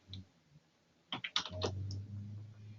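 Typing on a computer keyboard to fill in an online form, a quick burst of close key clicks after a short pause, with a low hum running underneath.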